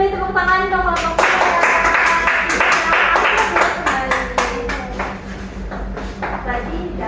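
Applause and clapping from a classroom audience after a student's presentation, a dense patter of many hands lasting several seconds, fairly close and steady, fading slightly near the end.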